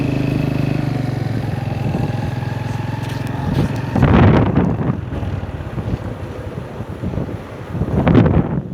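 Strong wind from an approaching storm buffets the microphone outdoors along a village road, a loud roaring rush with heavy gusts swelling around the middle and again near the end, with no talking.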